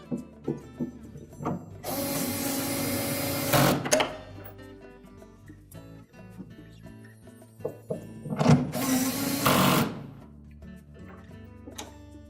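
A power drill drives screws into a Whirlpool refrigerator while a defrost thermostat kit is being replaced. Two loud whirring bursts of a few seconds each are separated by quieter clicks and handling noises.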